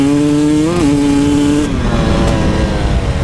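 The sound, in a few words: KTM 300 XCW motorcycle engine blubbering at partial throttle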